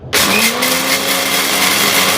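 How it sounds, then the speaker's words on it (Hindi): A mixer grinder coarsely grinds dal for Uttarakhand-style chainsoo. It starts abruptly and then holds a loud, steady whirring roar with a faint humming tone for about two seconds, with no talking. "मैंने सोचा कि मिक्सी पर ही पीस लेते हैं।"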